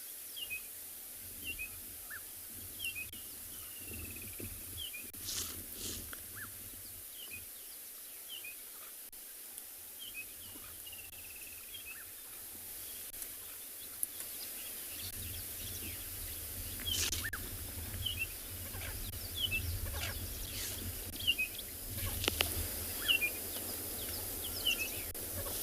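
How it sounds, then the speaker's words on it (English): Scattered bird calls and chirps in the South African bush on a morning safari, faint and distant over a quiet background with occasional insect-like buzzing and soft rustles. "Birds have started to make noises all around us."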